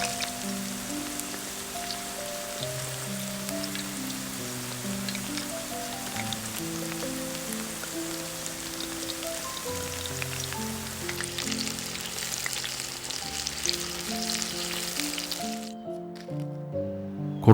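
Potato croquettes dropped into hot oil and frying, a steady dense crackling sizzle that fills the whole clip, with faint low tones from background music underneath and a sudden drop near the end.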